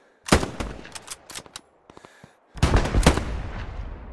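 Gunfire in the World War II shooter Hell Let Loose comes as loud, sharp bursts of automatic shots, one sustained volley, a brief lull with a few scattered rounds, then another heavy burst, without talk.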